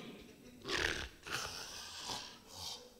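A preacher at an Easter Sunday church service imitates snoring with his voice: four rasping, snort-like bursts in a steady rhythm, close and moderately loud, with no other talk.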